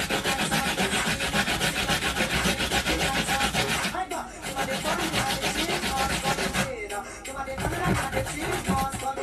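Coconut pieces being hand-grated for Jamaican sweet potato pudding, a close, loud, continuous rasping scrape in quick rhythmic strokes, with two brief pauses between bursts.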